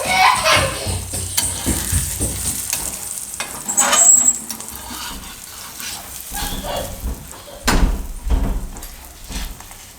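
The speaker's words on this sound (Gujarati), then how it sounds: "આરામથી આમાં મૂકી દેવું અને શેકી લેવું" A bajra and potato paratha roasts on a hot pan over a low gas flame, giving a steady soft sizzle with small crackles, while children chatter and play nearby.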